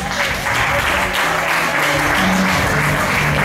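Audience at a Centro Aragonés event held at a Casa de Andalucía in 2019 applauding loudly and continuously, dense close clapping over a background of crowd murmur and sustained tones.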